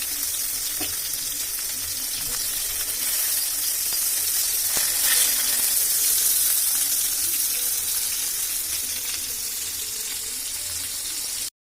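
Fish fries in oil in a kadai with a steady, dense hiss and crackle that holds at an even level from start to finish, with no talk.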